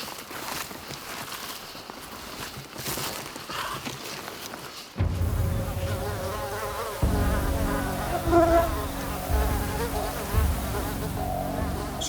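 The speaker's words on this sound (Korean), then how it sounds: "바로 북극모기다." A swarm of Arctic mosquitoes over thawing tundra pools, a dense, whining buzz that surges louder partway through and stays close and continuous, with no talk.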